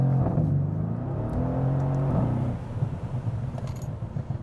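A Stage 1 tuned 600 hp Mercedes C63 AMG bi-turbo on a road test at a track, the engine note rising and shifting through a couple of gear changes, then settling into a rougher low rumble.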